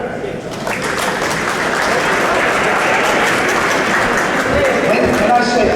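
A crowd at the Australian Square Dance 2022 opening ceremony in Goulburn bursts into sustained, dense applause that swells and holds steady, loud and close, with a few voices mixed in.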